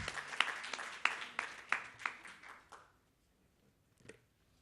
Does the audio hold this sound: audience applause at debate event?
yes